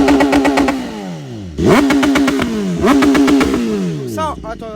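A stage 4 BMW S1000RR sport bike with about 230 hp is held in launch control at 8000 rpm, the engine revving hard and close in three repeated rising-and-falling surges, loud and raspy.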